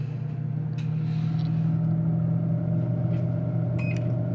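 A countertop cooking appliance cooks bacon with a steady, loud electric hum and droning motor tone that holds evenly throughout, with a couple of faint clicks near the end.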